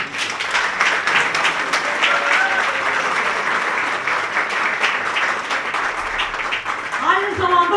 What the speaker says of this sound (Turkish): Bir alkış istiyorum lütfen.